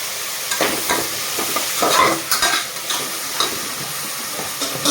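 A utensil scrapes and stirs mutton biryani masala in a frying pan, with irregular scraping strokes over a steady background sizzle.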